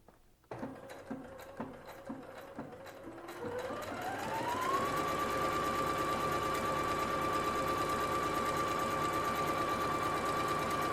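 A Singer SE 9185 sewing and embroidery machine runs test stitches, first with a few spaced mechanical knocks, then ramping up to a steady, continuous whirring hum that holds close and even until the end.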